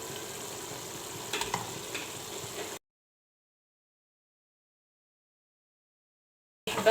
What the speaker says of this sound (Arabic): شوفوا بعد ما تقلات لي الخضره تاعي مليح مع اللحم